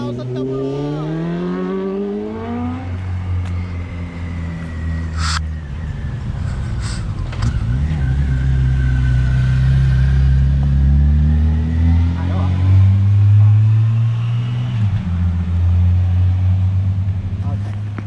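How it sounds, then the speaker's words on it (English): Road traffic of trucks, cars and motorbikes passing, with a steady engine rumble and a rising whoosh of one vehicle going by early on, under a voice talking throughout. "We've got trucks, we've got cars, we've got bikes coming up and down."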